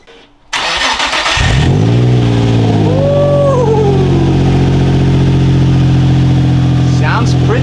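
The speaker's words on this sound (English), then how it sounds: "Cold start." An Infiniti G35 fitted with a cat-back exhaust cold-starts, its starter cranking briefly before the engine catches with a loud rev flare and then settles into a steady, throaty idle close by.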